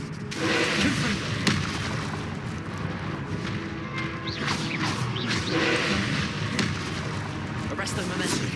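Booming Confringo explosion spells from Hogwarts Legacy burst repeatedly over dense game music and effects, a loud, continuous battle mix with sharp whooshes and impacts; voiced spell incantations are spoken throughout.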